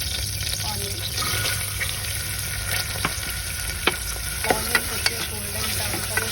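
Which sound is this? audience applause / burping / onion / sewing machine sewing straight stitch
onion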